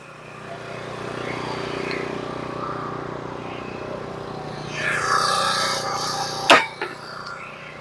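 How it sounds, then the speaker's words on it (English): Cold engine running while cutting a frozen log, a steady droning motor hum that swells and rises in pitch toward the end, then a sharp clank, with speech faintly mixed in. "This log's a little frozen and the engine's a little cold"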